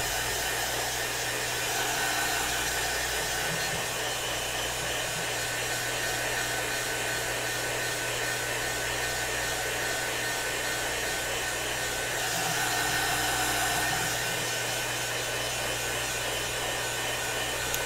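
A hair dryer blowing on sealed alcohol ink woodgrain, a loud steady whooshing hum that runs without a break from start to finish, close up, with no talking.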